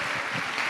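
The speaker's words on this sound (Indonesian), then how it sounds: "Kita berikan tepuk tangan yang meriah." A studio audience applauds in a short burst of dense, even clapping at a television talk show, heard alone with no voices.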